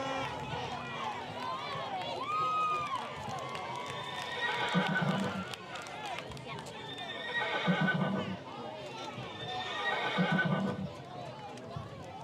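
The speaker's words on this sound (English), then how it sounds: "Just got spammed with a horse sound effect again." A horse sound effect played over the PA at a middle school football game after a Mustangs touchdown: repeated loud whinnies and galloping hoofbeats, looping several times, under an announcer's voice and faint crowd noise.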